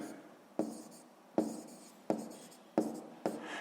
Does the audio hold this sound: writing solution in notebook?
yes